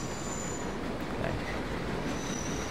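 Subway train in World of Subways 4 taking an S-bend: steady loud rolling rumble of a long multi-carriage train, with high metallic wheel squeal fading in and out across the curve.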